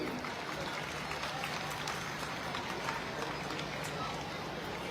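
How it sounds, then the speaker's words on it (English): A crowd at an outdoor national youth rally applauds scouts and guides, a broad, even wash of clapping and crowd noise that continues steadily throughout. "Let's give them another round of applause"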